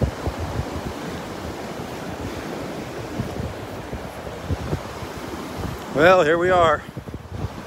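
Wind rushes across the microphone on a beach at Wiggins Pass in North Naples, Florida, a steady rumbling roar with surf-like hiss, and someone speaks briefly near the end.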